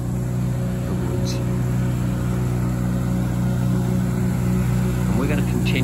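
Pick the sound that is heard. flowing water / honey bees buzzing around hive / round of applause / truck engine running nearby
truck engine running nearby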